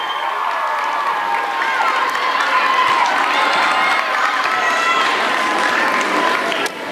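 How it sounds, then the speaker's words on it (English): A crowd at a school end-of-term assembly claps and cheers loudly and steadily, with shouts and whoops mixed into the continuous applause. "give her a round of applause."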